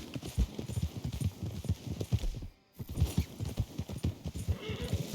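Horse hooves in Red Dead Redemption 2 clop in a quick, steady rhythm, close and fairly quiet, with a brief gap midway.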